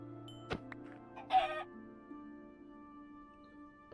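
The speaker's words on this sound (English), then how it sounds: "Thank you for finding me some chickens." Chickens clucking in the modded Minecraft pack All The Mods 10, with a few short game clicks and a brief bright burst over steady low tones, fairly faint throughout.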